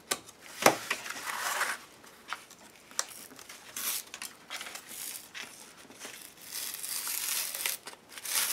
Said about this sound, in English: Going to take this music paper off the bottom.